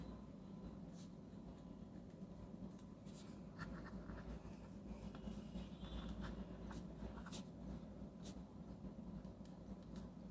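A fine gold-trimmed Luoshi 278 fountain pen nib writing on paper, soft faint scratches and light ticks in irregular strokes, close but quiet over a low steady background rumble.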